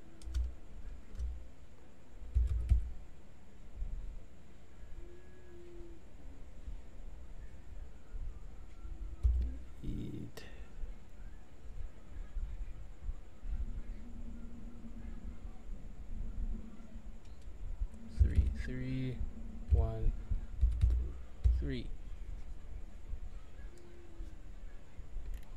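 Someone types on a computer keyboard while filling in an online application form. The key clicks are faint and scattered over a low steady background hum, with no speech.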